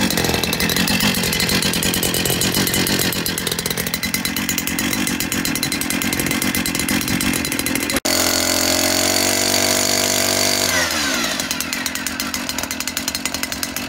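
A brand-new Stihl FS 460C bush saw engine runs loud and close, a harsh buzzing two-stroke drone that holds at high revs, then drops and shifts pitch as the throttle changes near the end.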